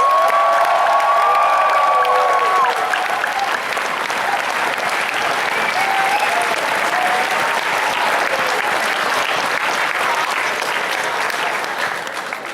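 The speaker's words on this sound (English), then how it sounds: "Stomp your feet, clap your hands for the Hilton, a really great venue." A large convention crowd in a hotel venue applauds at a closing ceremony, sustained loud clapping with some cheering and whoops, and a voice talking over the start.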